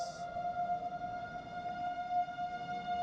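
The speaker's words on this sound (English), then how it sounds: "That was a long siren, it's like right there." A long, steady siren nearby, a sustained tone that holds without a break over low background rumble, heard while a new 2022 Banshee mountain bike is being ridden. No talking.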